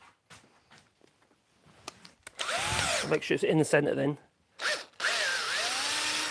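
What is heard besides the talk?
drill bit drilling small hole in wood on lathe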